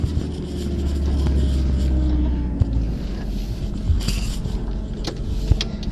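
A 1989 Toyota Tarago rear-wheel-drive van driving, its engine and road noise forming a steady low rumble from inside the cabin, with scattered knocks and rattles; no talk.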